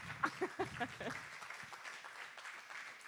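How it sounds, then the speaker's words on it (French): Audience applause at a technology innovation evening, faint clapping that opens with a few distinct claps and a voice over them, then settles into a soft, steady patter. "Une main d'applaudissement et en même temps pour Marwan"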